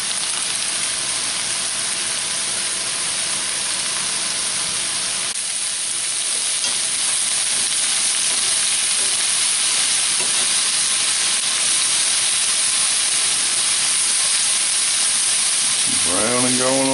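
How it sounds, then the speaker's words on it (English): Beef tips browning in a hot pan give a steady, loud, close sizzle and hiss that holds evenly throughout, with a brief voice near the end. "Browning going on."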